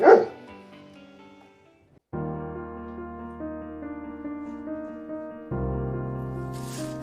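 A small dog lets out a short, sharp bark and yelp at the start, then fades to quiet before steady music takes over.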